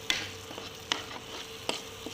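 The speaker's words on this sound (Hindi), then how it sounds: "देखिए ये प्याज हमारी अब अच्छी तरीके से भुन गई है।" Onions fry in a pan with a soft, steady sizzle, broken by three or four sharp scrapes of a spoon stirring them, close and fairly quiet.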